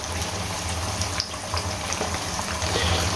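Chicken pieces fry in hot mustard oil, giving a steady, moderately close hiss and crackle that stays even throughout with no talking.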